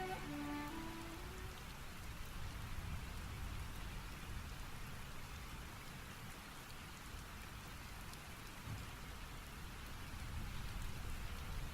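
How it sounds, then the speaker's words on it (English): Steady, even rainfall in the Final Fantasy XIV video game, a continuous wash of falling rain that holds for the whole stretch with no voices. "we're waiting in the rain"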